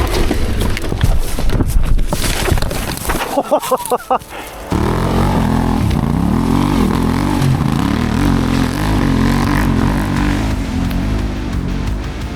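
A dirt motorcycle climbs a steep, loose switchback hill in second gear at nearly full throttle, its engine roaring loud and close with wavering revs and heavy wind buffeting the microphone.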